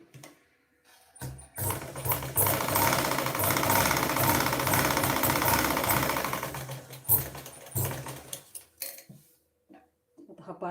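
A sewing machine topstitches along the main fabric with the lining folded inward, running in a loud rhythmic burst of several seconds followed by shorter stop-start runs, with a voice in the background.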